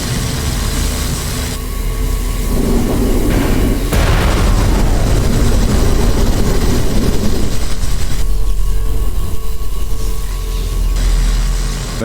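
Spaceship weapon fire and explosions in the space combat game Everspace 2, a continuous loud roar of blasts with a heavy booming burst around the middle, alone without talk.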